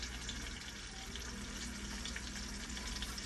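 Chicken pieces fry in a pan to crisp the outside, giving a steady, fairly faint hiss and crackle of hot oil that runs unbroken throughout.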